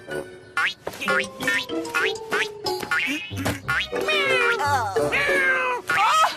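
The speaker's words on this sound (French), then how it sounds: "Gentil Minou, viens donc voir Mémé." A cat meows repeatedly and loudly, close by, with drawn-out rising and falling cries and short pauses between them.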